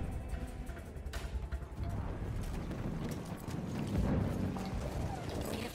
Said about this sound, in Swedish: Åh, två hästar, jävel!